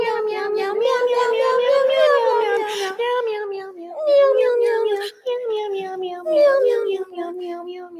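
A human voice imitates a cat, drawing out a steady run of sung, wavering meows one after another, loud and close, with no pauses between them.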